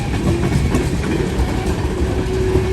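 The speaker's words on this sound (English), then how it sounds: "this is the longest ethanol train I've ever seen" A long northbound ethanol freight train rolling past close by, a steady loud rumble with rhythmic wheel clatter and no talk over it.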